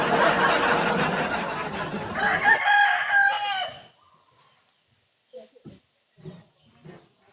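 A rooster crows loudly and close by for several seconds over a dense background of clucking chickens, then the yard falls quiet apart from a few faint, scattered clucks and short sounds.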